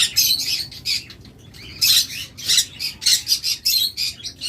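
Pet birds at a bird sale, including cockatiels and budgerigars, squawking and chirping in busy overlapping bursts, loud and close, with brief quiet gaps between calls and no talking.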